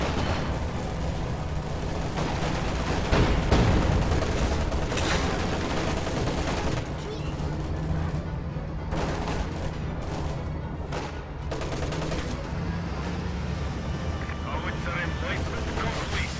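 Distant, continuous battlefield rumble from B4 howitzers shelling a tier 4 structure in a video game, heavy booming artillery fire sustained throughout with talk over it.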